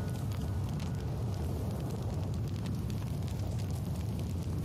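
A game character bursting into flames in The Outer Worlds, a steady loud roar of fire with a dense crackling rumble that holds unbroken for several seconds with no talk over it.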